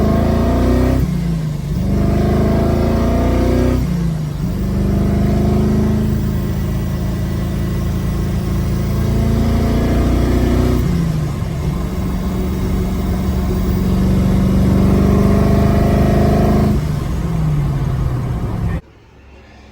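A 2018 GTM supercar accelerates hard through the gears from first to fifth, each pull a rising engine howl cut by short shift breaks, loud and close throughout before abruptly cutting off at the end.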